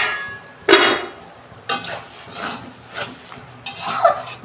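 A lid comes off a cooking pot of pumpkin greens with a clanking knock, followed by several metallic scrapes and clinks against the pot over a faint sizzle.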